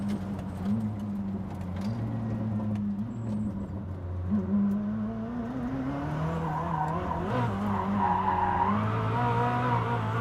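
A Koenigsegg Jesko sliding through a corner in a racing video game, its engine droning steadily as tires squeal and skid in a long continuous screech, loud and up close.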